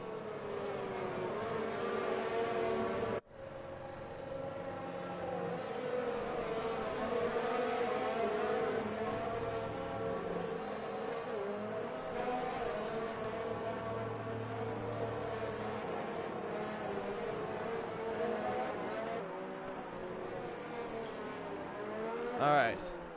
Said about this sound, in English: the drivers are coming around the final turns and they'll be getting ready for the start of this